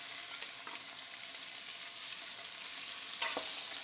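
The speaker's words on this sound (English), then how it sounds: "Got a good sear on it." Meat for pozole sizzles and sears in a hot pan, a continuous loud hiss with a couple of brief scraping stirs, and no talk.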